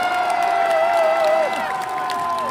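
A crowd at a Daejeon political rally cheers and shouts for a candidate in a sustained, loud roar. A whistle-like tone rises over it and then fades.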